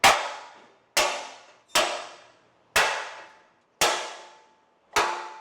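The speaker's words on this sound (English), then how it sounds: "you just take a punch and hammer those out" Six sharp metallic hammer blows on a punch, driving cut rivet heads out of a Jaguar XJ during a 4-link suspension setup, evenly spaced about a second apart, each ringing briefly before fading, loud and close with no talk.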